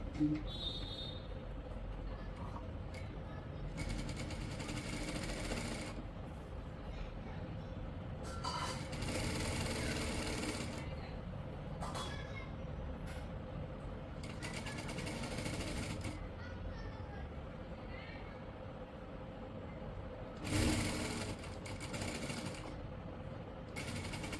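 A sewing machine stitches a kurti's band collar in several short whirring bursts spread across a quiet indoor stretch, heard close, with gaps of near silence between runs.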